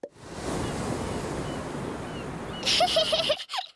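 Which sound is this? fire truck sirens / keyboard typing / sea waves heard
sea waves heard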